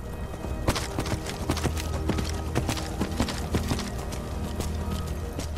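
Arvak, the summoned spectral horse in Skyrim Special Edition, gallops along with an irregular run of clopping hoofbeats over a steady background, fairly close and uninterrupted.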